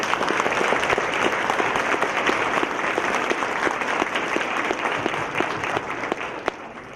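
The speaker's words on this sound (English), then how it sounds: "Let's give them a round of applause" A sustained round of applause from an audience at a Hmong community event, many hands clapping steadily and fairly loud throughout, easing slightly near the end.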